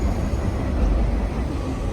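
A train rolls past on the Kingston subdivision, a heavy, steady low rumble and rolling noise close by that holds without a break.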